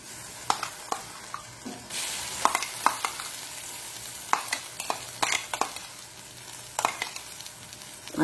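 Masala is added and stirred into a frying egg ghee roast in a pan, with a soft sizzle under repeated sharp scrapes and taps of a spoon against the pan, and no talk.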